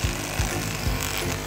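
A uFit RELEASER Mini massage gun runs with a steady, buzzing mechanical hum, its rapid percussive drive overlaid by a few duller thuds as it presses against the body, close and fairly loud.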